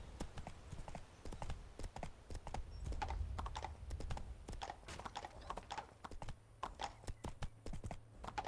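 Hooves of a horse clip-clop in the Skyrim video game, a fast irregular run of sharp, close knocks that goes on throughout, fairly quiet overall, with no voices heard.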